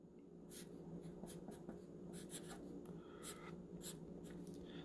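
Writing on paper during a math lesson, a pen or pencil making soft quick scratching strokes in irregular bursts, close and quiet over a low steady room hum.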